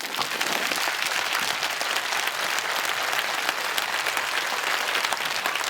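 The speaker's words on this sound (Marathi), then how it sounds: "दोन्ही हात वर करून जोरदार टाळ्या वाजू द्या" Sustained, loud applause from an audience at a live stage comedy and games event in a Maharashtra village, a dense steady clapping that fills the whole stretch with no talk over it.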